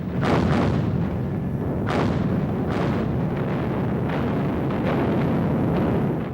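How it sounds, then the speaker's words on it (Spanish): A massive Soviet artillery barrage in a World War II setting, made of dense continuous rumbling blasts with heavy booms rolling over one another and no pause, loud and constant throughout. "Primero en forma de descarga masiva de artillería soviética"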